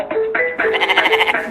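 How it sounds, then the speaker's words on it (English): A goat bleats loudly and close by, one long wavering cry rising into a quavering tremolo near its end, with no other sound around it. "Goat."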